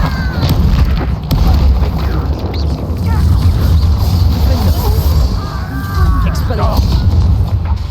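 Confringo fire spell explosions during a Hogwarts Legacy battle, heavy booming blasts and crashes that continue steadily under character voices shouting spells and combat sound effects.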